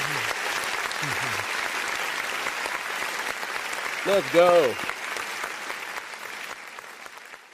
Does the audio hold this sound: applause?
yes